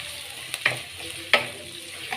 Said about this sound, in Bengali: লাল লাল করে ভেজে নেব এটাকে।